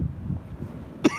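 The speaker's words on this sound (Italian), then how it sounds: "E io più parlo più c'ho la tosse" A single short, sharp cough near the end, following a stretch of low, rumbling wind noise outdoors in freezing cold at Blokhus at sunset.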